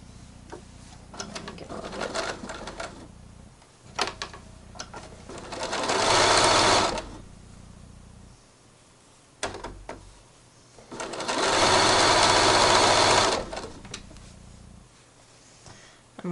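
A sewing machine stitches a mermaid tail in two long, steady runs of close mechanical whirring, separated by stretches of quiet ticking and handling while the fabric is pivoted.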